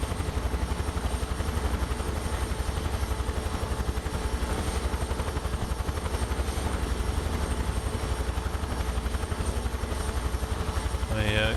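A UH-1H Huey helicopter flies over Nice and Monaco in Microsoft Flight Simulator, its steady rotor thump and turbine whine droning loud and continuous throughout, with a brief tonal chime near the end.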